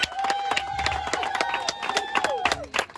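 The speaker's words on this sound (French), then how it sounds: "Applaudissements pour elle, s'il vous plaît." An audience claps for a brand founder at her label's tenth-anniversary celebration, a burst of quick, uneven hand claps with light cheering, fairly close and moderately loud, over roughly three seconds.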